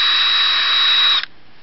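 A power drill with a wax-coated bit drilling into a VW Beetle rear apron gives a loud, steady high whine for about a second before it stops abruptly.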